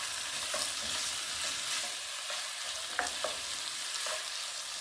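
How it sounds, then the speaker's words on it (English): Seasoned beef being stirred in a frying pan with salt, pepper and garlic salt, a steady close sizzle with soft scraping strokes and a few sharp clicks of the utensil against the pan, no talking. "Let's get that all stirred in."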